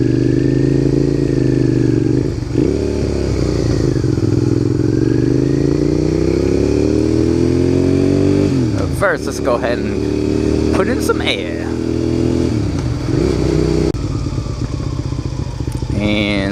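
A motorcycle engine runs close by for the whole stretch in cold, wet weather, its pitch rising and falling with throttle changes, while a rider talks over it and brief clatter cuts in midway.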